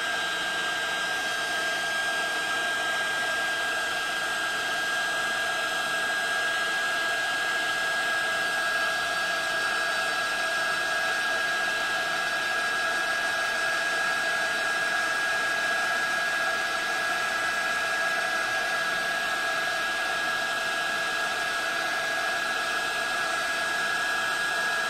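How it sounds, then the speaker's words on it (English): A handheld heat embossing tool runs with a steady, loud, unbroken blowing whir and a thin high whine, alone for the whole stretch with no talk. "Let the heat tool get hot a little bit."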